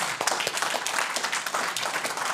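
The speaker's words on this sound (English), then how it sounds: "First, we have to give you applause." Audience applause after a conference talk on Amiberry at a vintage computer festival, a moderate patter of clapping that holds steadily for a couple of seconds with a faint voice underneath.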